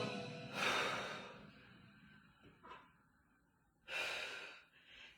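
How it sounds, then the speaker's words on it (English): Heavy breaths during an exercise class, a sharp audible exhale, a short fainter breath after a pause, then another strong exhale near the end, close to the microphone with no talk. "Exhale on the way up. Inhale on the way down."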